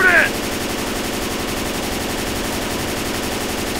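Rapid automatic gunfire from the zombie shooter Left 4 Dead 2 rattles loud and unbroken for several seconds after a brief sharp burst at the start.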